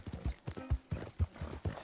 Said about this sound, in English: The horse is agitated by a predator.